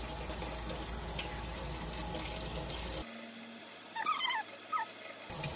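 Tap water runs while tomato seeds are rinsed out of a jar, a steady gushing stream that cuts off partway, leaving quieter splashes and handling sounds before the flow resumes.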